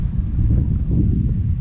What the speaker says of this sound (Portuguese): Ainda está bastante vento.